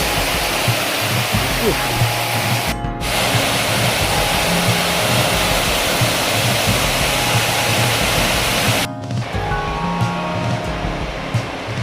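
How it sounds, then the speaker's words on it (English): Waterfall along the Loyalsock Trail, heard as a loud, steady broadband rush of falling water that fills the whole clip, with two brief dropouts where the sound cuts out. "So that waterfall, it's kind of tough to see."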